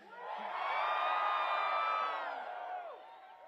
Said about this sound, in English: Wow, what an incredible crowd.